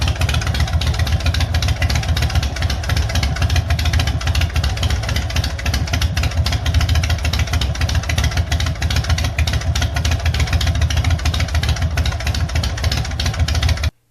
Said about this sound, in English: but the bike started right up.